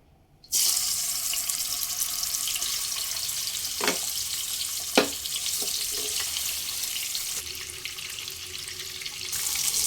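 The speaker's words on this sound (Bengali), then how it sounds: "পেঁয়াজ বেরেস্তা ভেজে নেওয়া তেলের মধ্যেই আমি মাছ ভেজে নেব" Bhetki fish pieces fry in oil that was first used to fry onions. The oil gives a steady, faint hiss with a few sharp crackles and pops, and no voices.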